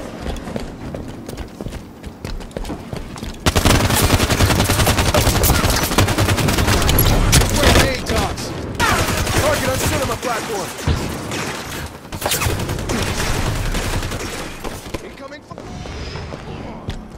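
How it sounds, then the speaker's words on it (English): Enemy gunfire in Halo 5, rapid clattering bursts of automatic fire that run loud and dense for long stretches, with brief lulls and a quieter tail at the end. "Enemy fire."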